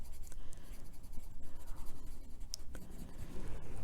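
A colored pencil rubs steadily across paper, shading a bunny's small pink nose on an adult coloring page, with a continuous close scratchy texture and no talking.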